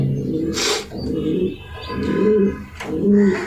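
A racing pigeon coos close by in soft, repeated low phrases with short gaps, while someone talks quietly in the background.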